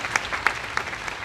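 A church congregation at a conference breaks into brief, moderately distant applause to acclaim God, a steady patter of many hands clapping together.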